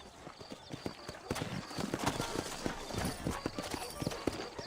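Horses' hooves clip-clop in a western video game set in New Austin, several animals trotting in a quick uneven rhythm that grows louder, with game characters speaking over it.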